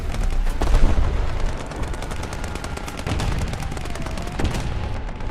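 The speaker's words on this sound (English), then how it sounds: "Had just enough time to get a shot on him." Heavy gunfire and explosive booms from tank combat in the video game War Thunder, a dense, loud barrage of repeated shots and blasts running throughout with no pauses.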